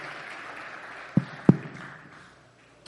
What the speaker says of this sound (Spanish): un aplauso para David